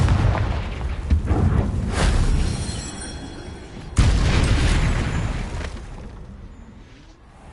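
Confringo explosive spells in Hogwarts Legacy, two heavy booming blasts several seconds apart, each followed by a long rumbling decay, loud and close.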